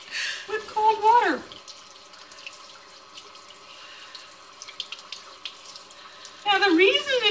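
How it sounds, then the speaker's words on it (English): Cold water runs steadily from a kitchen sink tap while red snapper fillets are rinsed, a continuous close splashing stream with a person talking briefly at the start and again at the end. "Now we have a fishy sink with cold water."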